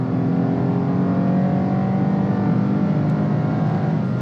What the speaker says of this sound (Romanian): E aproape melodios motorul.